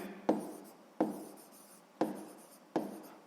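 A pen writing an answer in a notebook: four short scratchy strokes spaced roughly evenly, close and quiet, with no talking.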